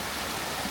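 Water flows steadily along Cheonggyecheon stream in Seoul, an even, close rushing hiss with no voices over it.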